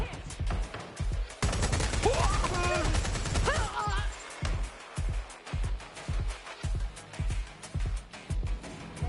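Rapid bursts of automatic gunfire in Watch Dogs Legion, a dense volley followed by a string of separate sharp shots, loud and close, with shouted voices mixed in over the shooting.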